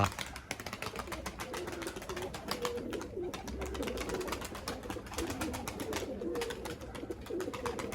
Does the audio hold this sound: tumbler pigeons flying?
yes